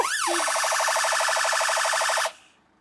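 An English police car siren sounds loud and near, opening with a short rising sweep, then settling into a steady fast two-tone hi-lo pulsing before stopping sharply.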